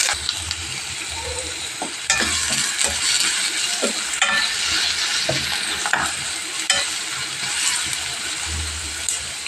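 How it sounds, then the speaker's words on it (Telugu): Finely chopped onions sizzle and crackle steadily in hot oil on a stovetop, with a few sharp stirring scrapes and clinks of a utensil against the pan, close and fairly loud, with no talking. "స్టవ్ ఆన్ చేసుకొని ఆయిల్ అనేది హీట్ చేసుకున్నాం. ఇప్పుడు సన్నగా తరిగిన ఆనియన్స్ వేసుకున్నాను."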